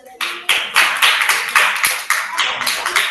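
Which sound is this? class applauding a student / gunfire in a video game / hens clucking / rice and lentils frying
class applauding a student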